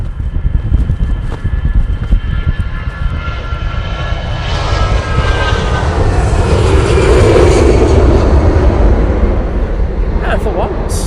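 An Aer Lingus airliner landing at Manchester Airport: a loud, broad jet roar swelling steadily as it passes close, with a rising engine whine, the sound running continuously throughout.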